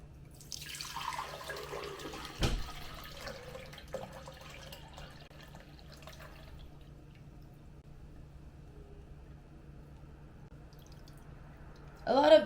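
Coffee pours and trickles softly through a strainer close by, with a few drips and a faint background hum.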